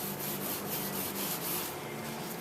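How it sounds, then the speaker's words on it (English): A scouring pad scrubs old bottom paint and paint remover off the wooden hull of a 1955 Penn Yan Commander boat, giving a steady, close, abrasive rubbing with rhythmic strokes and no talk. "once you've gotten the lion's share of material off the wood, this scouring pad is just amazing"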